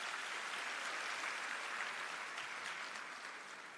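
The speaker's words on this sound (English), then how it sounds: "Can we give another round of applause?" Sustained audience applause at a teachers' engagement session, a steady dense wash of many hands clapping for several seconds, fading slightly at the end, with no talk over it.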